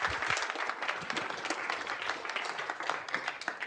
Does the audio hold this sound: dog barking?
no